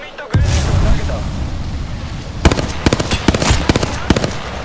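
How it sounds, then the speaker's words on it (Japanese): Thermite grenade burning in Apex Legends: a loud, sustained roaring hiss starts abruptly and keeps going, joined partway through by a run of crackling pops and bangs. "テルミットグレネードを投げた。"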